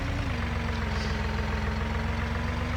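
A tractor engine idles close by with a steady, low, throbbing rumble and an even mechanical hum. The sound continues unchanged with no talking.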